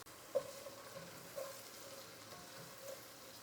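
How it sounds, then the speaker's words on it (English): Diced onion cooks gently in melted butter in a pot, giving a soft, faint, steady sizzle with a few brief clinks or taps, quiet and close with no voices. "add in our diced onion and give it a few minutes to cook down"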